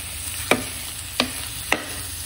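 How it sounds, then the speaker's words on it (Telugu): Masala sizzles in a covered pan while being fried, with three sharp scraping stir strokes spaced evenly over a steady low crackle, close and moderately loud. "మూత పెట్టేసి కొంచెంసేపు బాగా వేయించుకోండి."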